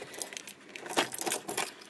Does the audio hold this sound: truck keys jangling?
yes